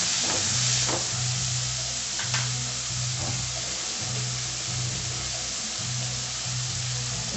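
Tomatoes and curry leaves sauté in a pan for a jackfruit-seed and brinjal kuzhambu, giving a steady close sizzle with a low rhythmic hum and a few soft stirring scrapes, with no voices.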